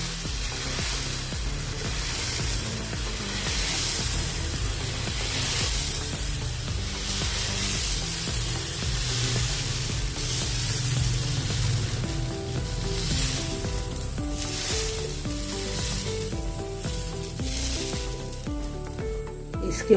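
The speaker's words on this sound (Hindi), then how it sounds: "अभी डालेंगे अपना बैटर इसमें, इसको फैला देंगे ऐसे।" Dosa batter made from leftover masoor dal sizzles steadily on a hot pan, a close, continuous broadband frying hiss with faint clinks and background tones, no talking.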